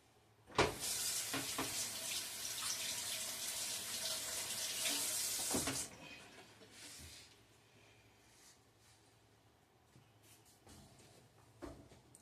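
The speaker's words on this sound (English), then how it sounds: "Let me rinse my hands off." Running tap water splashes loudly for about five seconds as hands are rinsed under a faucet in a home kitchen, then the flow stops, leaving quieter room noise and a few faint clicks.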